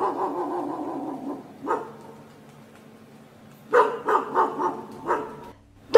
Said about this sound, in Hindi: अमेरिका में रात को जब कुत्ता भौंकता है